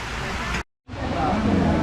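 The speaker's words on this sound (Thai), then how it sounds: "ฝนตกครับ" Steady rain pours down at Sai Yok Noi Waterfall, Thailand, in a dense, even hiss, broken by a brief moment of silence before resuming just as heavily.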